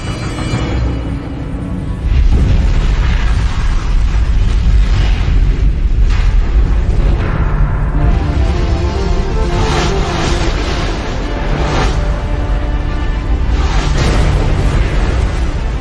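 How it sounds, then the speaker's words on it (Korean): A loud, sustained roaring boom with deep rumble, from a meteoroid exploding in the atmosphere as a documentary sound effect. It swells after a quieter opening and stays dense and heavy throughout, with no talking. "마침내 유성체는 폭발하고 만다"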